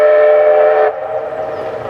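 A steam locomotive whistle on the Keighley & Worth Valley Railway at a spring steam gala sounds one loud, sustained harmonic blast that cuts off sharply, leaving a lingering echo across the valley.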